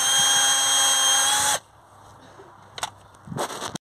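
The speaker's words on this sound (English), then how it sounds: "Just using a little wire brush on a driver here just to go around them and clean them up" Wire brush spinning on a drill driver while cleaning brake caliper parts on a VW Crafter or Mercedes Sprinter front brake job, a loud, close whine for about a second and a half, then brief scraping and handling noises.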